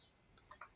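Two quick, faint clicks of a computer mouse at a desk while working in Abaqus software, sharp and close with near silence around them.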